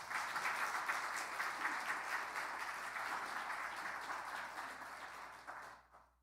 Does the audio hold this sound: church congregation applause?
yes